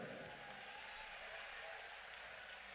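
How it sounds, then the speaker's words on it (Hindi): Audience clapping at an outdoor religious stage event, a continuous patter of hands that is fairly faint and distant and holds steady over the short stretch. "तो इन पिता के लिए एक जोरदार ताली बजाइए।"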